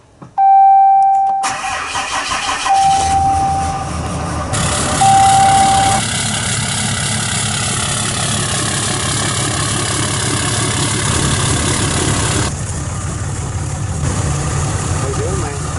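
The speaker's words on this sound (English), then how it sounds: "me and Pete's loaded up in the 16 Dodge" A 2016 Dodge truck starts with a loud cranking catch, a chime ringing early on, then settles into a steady low idle that runs close and continuous while people talk over it.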